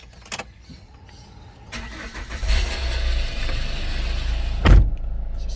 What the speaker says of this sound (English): Car start.